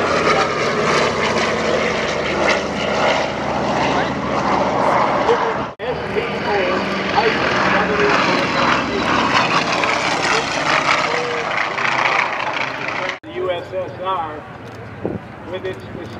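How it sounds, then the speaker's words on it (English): A pink Aero L-39 jet flies past at the EAA AirVenture Oshkosh 2024 airshow, its loud engine roar sweeping steadily with brief gaps as the aircraft passes. "with its distinctive paint scheme, it is the Pink L-39"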